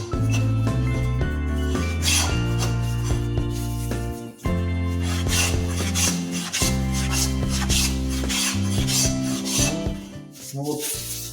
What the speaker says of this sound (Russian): Сейчас я им построгаю.